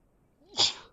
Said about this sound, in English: I thought I'd stop sneezing